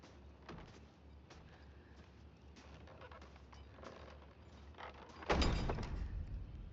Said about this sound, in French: Oh mon Dieu, la porte s'est claquée à cause du vent.